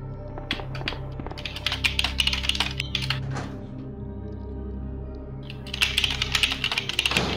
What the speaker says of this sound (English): he can hear me typing my responses in his Discord